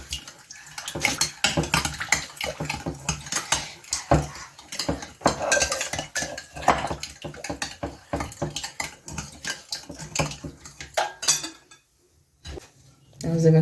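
Plates and dishes clatter and clink up close while salt and pepper go onto food for a crispy shawarma roll, with irregular knocks, scrapes and handling noises, then a brief pause and a final clunk.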